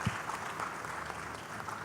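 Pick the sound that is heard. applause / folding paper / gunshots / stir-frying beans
applause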